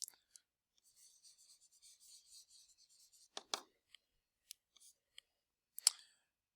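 Pen strokes scratch softly while notes are written, a quiet run of light scribbling followed by a few sharp taps and clicks, close and with no talking.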